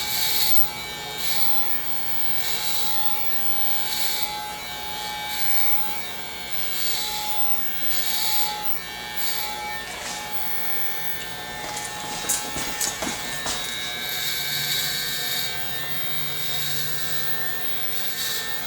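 Electric hair clippers fitted with a 1/8 blade cut hair on a flat top with shaved sides, a steady close motor buzz running throughout, with brief scraping bursts partway through and no talking.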